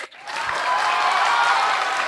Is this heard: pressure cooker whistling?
no